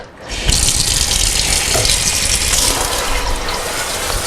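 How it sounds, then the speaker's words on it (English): Cold tap water runs hard over freshly made paneer curds in a kitchen sink, a loud, steady gushing stream that starts abruptly and continues without pause, with no voices. "I'm going to take some cold water"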